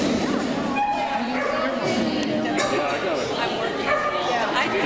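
Dog yipping and barking excitedly at an agility trial, a steady stream of high yelps and whimpers over constant crowd chatter and nearby talk throughout.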